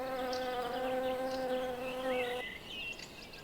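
Bumblebees and honeybees buzz close by while gathering pollen from spring blossoms, one steady droning hum with a tonal whine that fades out partway through and gives way to softer outdoor ambience.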